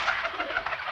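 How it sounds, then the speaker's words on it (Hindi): Pigeons coo softly while pecking at scattered grain in a village setting, a few gentle repeated coos close by with no talk. "सुबह सुबह पंछियों को दाना डाल रहे हैं। और वो चुग भी रहे हैं"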